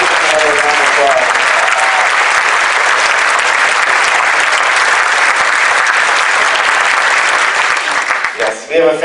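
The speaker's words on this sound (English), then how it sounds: "Let's give them another round of applause." An audience at an Arlington Heights Community Band fall concert applauds loudly and continuously in a steady wash of clapping that tails off at the end.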